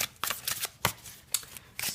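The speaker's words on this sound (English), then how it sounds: "let's give the cards a good shuffle" Tarot cards shuffled by hand in quick, irregular riffling bursts, several separate flurries close to the listener and fairly soft.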